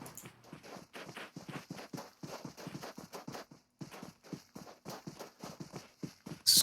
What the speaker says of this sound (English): You can hear all the footsteps, knows it's coming.